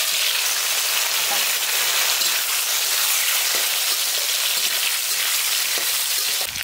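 Steamed taro sizzles steadily in hot mustard oil with bay leaf, radhuni and black cumin, a dense, even, close frying hiss that carries on without a break.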